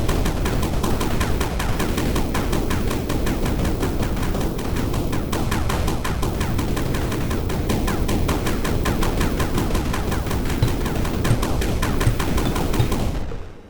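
Gun firing in the 2D physics sandbox mining game Sandustry, a rapid, unbroken stream of shots at a steady, fast rhythm, loud and dense for the whole stretch before cutting off abruptly.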